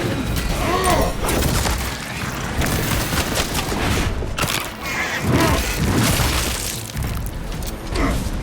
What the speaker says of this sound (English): Fragmentation grenade! Out!